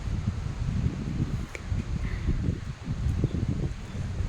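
Steady low rumbling wind buffets the microphone outdoors in Taiwan as rain picks up, with gusty surges and faint rustling throughout.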